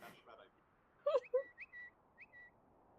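Social media notification chimes pop in one after another, a quick run of short, faint tonal pings in an otherwise quiet moment.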